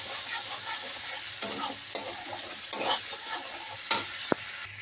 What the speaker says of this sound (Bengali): দিয়ে আবারও একটু কষিয়ে নেব।